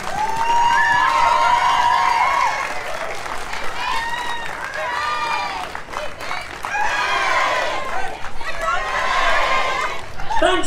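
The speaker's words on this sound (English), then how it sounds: "Big round of applause, please." A crowd applauds and cheers at an outdoor fair day in Morpeth after a couple is congratulated, the clapping loud and sustained with whoops and shouts rising in bursts, voices mixed throughout.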